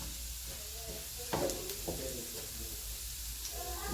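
Tofu frying in a pan gives a steady, close sizzle and hiss that runs the whole time, with a few louder crackles and pan stirring partway through.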